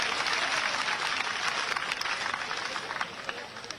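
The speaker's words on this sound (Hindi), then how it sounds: "एक बार जोरदार ताली बजा के उनका स्वागत कीजिए" Crowd at an outdoor political rally in Ambah bursts into loud, sustained applause to welcome a leader, dense clapping holding steady throughout and easing slightly toward the end.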